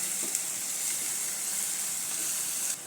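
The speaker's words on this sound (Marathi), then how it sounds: "कांदा परतले गेला आहे तेलामध्ये" Chopped onion sizzles steadily in hot oil while a Chandan Batwa vegetable dish is prepared, giving a continuous close, even hiss with no talking.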